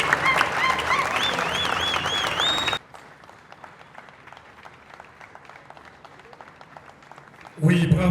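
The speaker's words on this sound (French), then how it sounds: "on continue à applaudir jusqu'à ce que la délégation de l'INA rentre à sa place" Applause for a comedian rises loud over cheering and shouting voices, then drops abruptly to a faint scattered patter of clapping for several seconds before a loud burst of noise returns at the end.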